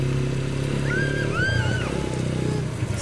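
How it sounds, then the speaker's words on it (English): An ATV engine idles and runs with a steady, throaty low rumble throughout, with a short high whine rising and falling over it partway through. "That thing purrs, doesn't it? It runs good."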